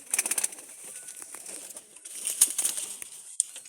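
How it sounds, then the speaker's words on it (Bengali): Pigeons flutter and shuffle close by, with bursts of wing flapping and faint cooing scattered across a few seconds. "তো অবশ্যই কবুতরগুলো দেখেন"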